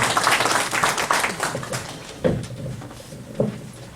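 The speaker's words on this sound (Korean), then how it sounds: "박수로 한번 해주십시오." Audience applause welcoming a speaker at a business lecture, a short burst of clapping that fades quickly into scattered thumps and quiet room noise.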